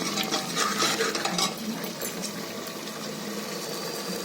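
Masala fries in oil as a utensil stirs it in a pan, with scraping and clinking strokes strongest at the start, then settling into a steady sizzle.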